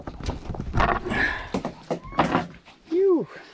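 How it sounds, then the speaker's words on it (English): A stiff wooden door on a backcountry hut in Westland, New Zealand, is forced open with several heavy thumps and scrapes, ending in a short rising and falling creak, all close and irregular. "Oh, not the stiff door."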